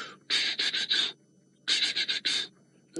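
A person imitates a leopard's chuffing: two bursts of rapid, breathy, huffing pants blown through the teeth, close and alone, separated by a short pause.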